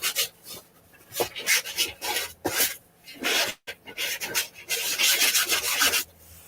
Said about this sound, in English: It's gonna take a lot of artwork to sand it.